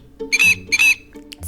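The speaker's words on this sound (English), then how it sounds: "Let's listen to the sound that the mouse makes." A mouse squeaking, two quick high-pitched squeaks in a row, close and clear with faint background tone.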